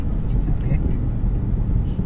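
Car traffic on the elevated Skyway at midnight, heard as a steady broadband road rumble from nearby vehicles in slowing traffic, continuous and fairly loud throughout.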